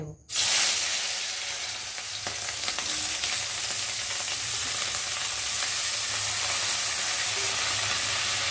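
Potatoes hit a hot wok with a sudden loud sizzle, then fry in a steady, dense hiss that continues close up throughout, with no talking.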